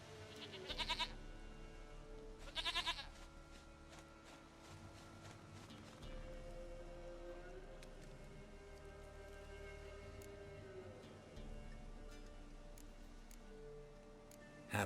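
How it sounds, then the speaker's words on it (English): A goat bleats twice, short and nasal, in The Witcher 3, each call standing out over soft game ambience and low background music. "Dearest, sweetest goat."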